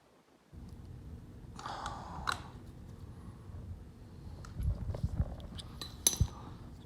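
Small metallic clinks and taps as a battery terminal bolt is threaded on a Honda Goldwing GL1500, faint, close, and irregular with a few sharper clicks near the end.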